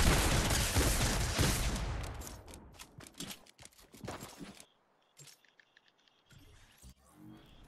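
Rapid bursts of automatic gunfire from a shooter video game, dense and loud at first, then thinning into scattered shots and clinks with brief pauses between.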